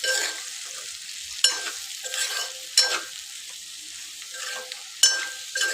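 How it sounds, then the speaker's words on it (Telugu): Spicy okra (bendakaya) curry stirred in a pan, with steady frying sizzle and repeated scraping strokes of the spoon against the pan, about five sharp scrapes spread through the clip, with no talking. "ఇప్పుడు ఇవన్నీ ఒకసారి మంచిగా కలుపుదాం"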